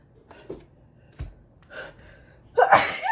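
A few short, sharp gasping inhales build up in a quiet room, then a single loud sneeze erupts up close.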